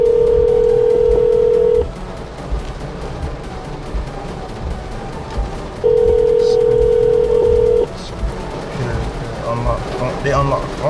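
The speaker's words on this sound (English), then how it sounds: "let me call them boys on the phone right quick" A phone line plays two long steady dial or ringback tones separated by a pause, heard while calling a phone repair service. A person talks faintly in the background.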